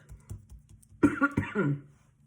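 A few harsh coughs close to the microphone, in a quick cluster, following some quieter soft noises.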